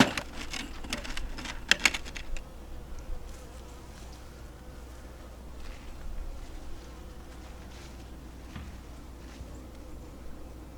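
Honeybees buzz and drone inside a hive with a queen cell, loudest in a short opening burst of activity that then settles into a quieter, steady hum.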